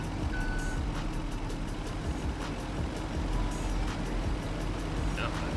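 In Farming Simulator 25, a truck pulls up on a street with repeated reversing beeps over a steady engine rumble, moderately loud.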